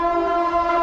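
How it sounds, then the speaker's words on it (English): Steady, loud train horn sounding close by near a cemetery mausoleum, a sustained multi-tone blare holding evenly for about a second with no voices over it. "I think that was a train"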